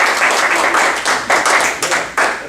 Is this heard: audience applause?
yes